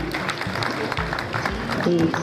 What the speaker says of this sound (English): So please clap for the publicity committee.